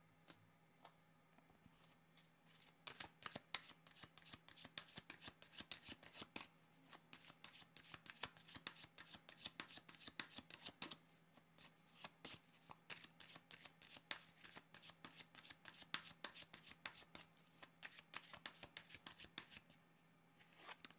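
A deck of cards being shuffled over and over during a tarot-style reading, crisp riffling and flicking bursts close by that come in rapid clusters with short pauses, mostly alone with a faint steady hum beneath.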